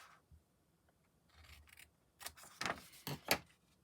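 Scissors cut paper into triangle shapes for a handmade envelope: faint rustling first, then a few crisp close snips growing louder toward the end.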